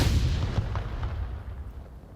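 A grenade blast in the VR shooter Onward, a loud low boom right at the start that rolls off into a fading rumble.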